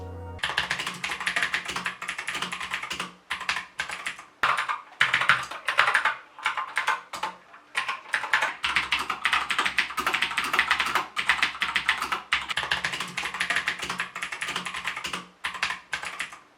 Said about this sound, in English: which gives the keys an extra clicky sound in my opinion. Take a listen.